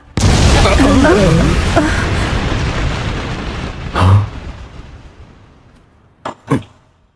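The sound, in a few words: explosion blast in anime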